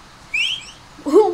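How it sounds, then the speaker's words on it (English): A person whistles in the Roblox game Apeirophobia: a short rising whistle, then a second lower, louder one a moment later, with no talking. "Who whistled?"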